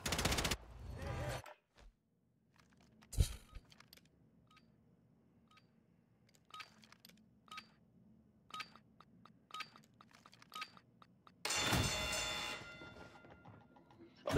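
Sparse bursts of Interceptor weapon gunfire in a Warzone 3 match, sharp, loud shots separated by quiet gaps, with faint game ambience and beeps between them.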